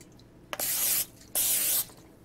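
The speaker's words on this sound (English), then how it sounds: "But everything's telling me spray it." Cooking spray hisses onto a plastic omelet maker in two close, even bursts of about half a second each, with quiet pauses around them.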